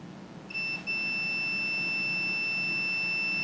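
A digital multimeter on continuity mode with its probes on a piece of wire gives a steady high-pitched beep that begins shortly after a brief stutter and holds unbroken to the end, loud and close.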